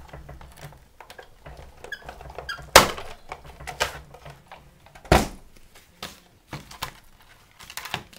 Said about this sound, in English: run it through the Big Shot